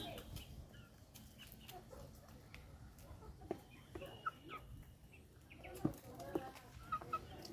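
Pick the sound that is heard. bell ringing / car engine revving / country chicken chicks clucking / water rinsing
country chicken chicks clucking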